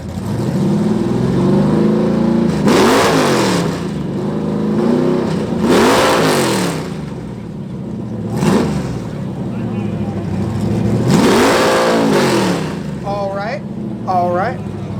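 Modified muscle cars, trucks and JDM cars rev their exhausts at an outdoor exhaust competition: several loud, rasping bursts rise and fall over steady crowd noise, with people talking and cheering throughout.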